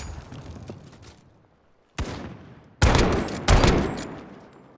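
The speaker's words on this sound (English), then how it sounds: "The lever action sniper rifle." Lever action sniper rifle fire in Call of Duty Modern Warfare, sharp loud shots with ringing tails, two heavy blasts close together after a lighter one, following a faint fading rattle.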